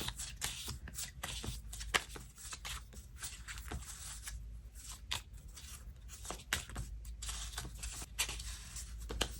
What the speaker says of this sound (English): I'm going to flip through my little section right here